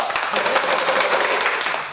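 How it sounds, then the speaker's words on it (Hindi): Outdoor crowd clapping at a street play, a steady patter of many hands with a voice talking underneath, moderately loud and tapering off at the end. "अब एक बार ताली बजा दो"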